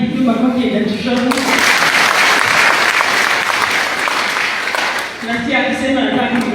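A loud, dense burst of crowd clapping at a church gathering during a speech, running for several seconds between stretches of someone speaking at the start and end.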